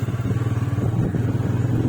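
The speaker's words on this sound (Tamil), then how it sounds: "கார் வருது பாருங்கள்" A low, steady engine rumble with a pulsing throb, fairly loud and close, like a Volkswagen Taigun rolling past on the road to Beeman Falls.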